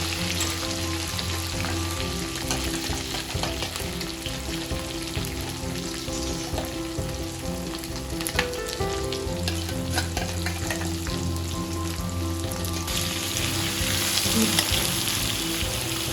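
Ginger garlic paste sizzles steadily in hot oil alongside deep-frying chicken, a dense continuous crackle with occasional stirring scrapes, close and loud throughout.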